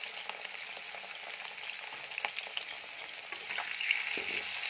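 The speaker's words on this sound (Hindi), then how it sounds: "आलू को फ्राई करने के लिए थोड़ा सा नमक और थोड़ा सा हल्दी पाउडर डाल देंगे।" Potatoes fry in a pan with a little salt and turmeric powder over a medium-high flame, giving a steady, close crackling sizzle with occasional sharper pops and stirring scrapes.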